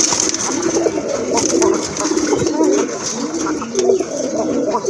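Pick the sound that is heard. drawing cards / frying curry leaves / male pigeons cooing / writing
male pigeons cooing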